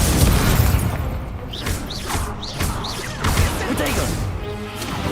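In the Hogwarts Legacy video game, an Incendio fire spell erupts as a dense, rumbling boom with crashing impacts. Whooshing spell effects and brief voiced fragments sit over the clash of battle.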